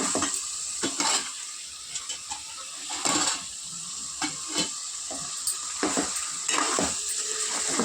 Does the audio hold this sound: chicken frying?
yes